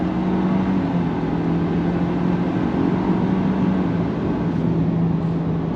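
A 2024 Ford Ranger Lariat pickup pulls hard on throttle, its engine drone and road roar holding loud and steady inside the cabin, with no voices over it.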